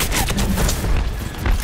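Gunfire in the Overwatch video game, a short burst of several rapid shots in quick succession, loud and close.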